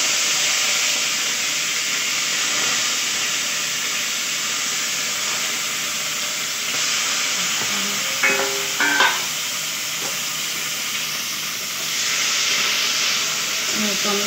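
Tomato sizzles in hot oil for a home-style vegetarian labra curry, a loud, steady hiss of frying that runs throughout, with a few brief utensil clatters partway through.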